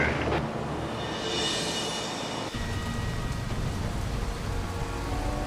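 Steady rain pours down on a highway in British Columbia, a dense, even hiss of drops hitting the road that runs unbroken and loud throughout, with no voices.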